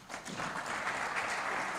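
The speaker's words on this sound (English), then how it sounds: "Ladies and gentlemen, another round of applause too" Audience applause fills a hall at a commemorative event, a steady, moderately loud wash of clapping that holds evenly for a couple of seconds with no voices over it.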